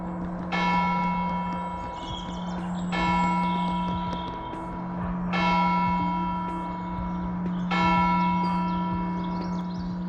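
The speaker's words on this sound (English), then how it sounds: "if you like the sound of church bells, I timed my visit to this very right" Church tower bells with a ring of eight, some cast between 1590 and 1618, toll in a parish church in Whatton in the Vale, Nottinghamshire; four strong, resonant strikes come at slow, even intervals, each leaving a long humming decay.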